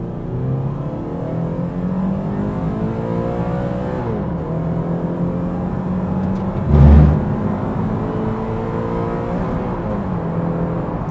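A 2012 Toyota GT86 in sport mode pulls hard from standstill toward 100 km/h, engine note climbing steadily through the revs with gear changes dropping the pitch, loud and continuous from inside the cabin, with a short thump partway through.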